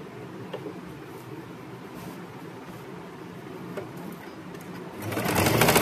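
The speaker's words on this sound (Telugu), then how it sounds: "టాప్ స్టిచ్ మనం ఇటు నుంచి చేసినా పర్వాలేదు, కుట్టేసాం కాబట్టి ఇక్కడ నుంచి చేసేద్దాం" Sewing machine running steadily while top stitching a princess-cut kurti, a continuous close whirring hum that swells louder in the final second, with no talking.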